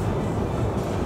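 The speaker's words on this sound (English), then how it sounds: "We are in the metro." Steady low rumble of a Moscow metro train in motion, heard from inside the carriage as a dense, continuous roar with no talk.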